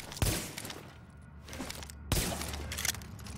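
Gunshots fired on the shooting range in the video game The Division, two sharp reports about two seconds apart with broadband cracks and a lingering tail, fairly close and loud.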